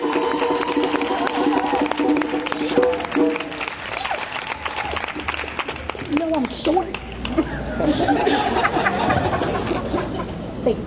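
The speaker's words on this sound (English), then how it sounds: "Give them another round of applause, everybody" An audience at a poetry tribute night applauds a poet, a dense steady patter of clapping from a crowd, with people talking and calling out over it the whole time.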